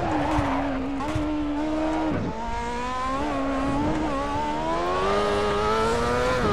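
A Formula 1 car screams through its gears on the Nurburgring GP circuit in Assetto Corsa, its high-pitched engine rising and dropping steadily as it brakes and accelerates, loud and continuous with no talking.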